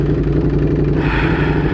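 Ducati Panigale V4 motorcycle exhaust, a loud, close, deep throbbing engine note that rises in intensity partway through as it revs, with no talking.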